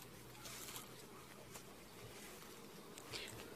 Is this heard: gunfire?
no